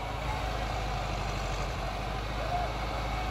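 A tractor engine idles in a steady, unbroken low rumble that stays loud and constant throughout, with no clear speech over it.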